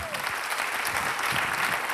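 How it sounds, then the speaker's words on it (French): Applause from a small audience, steady clapping that carries through the moment with a voice speaking underneath. "vous pouvez les applaudir"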